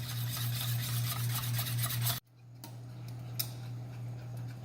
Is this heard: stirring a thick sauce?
yes